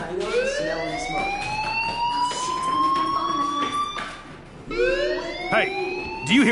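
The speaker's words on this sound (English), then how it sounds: "Hey, do you hear that fire alarm?" An electronic fire alarm in the video game Life is Strange wails steadily with rising, repeating sweeps, loud and continuous throughout, with no speech over it.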